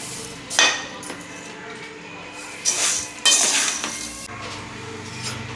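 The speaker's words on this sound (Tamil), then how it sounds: "தீஞ்சிராமல் வறுக்கணும்" Ingredients are dry-roasted in a pan and stirred with a metal spoon, giving repeated scraping and clinking against the pan in uneven bursts close by.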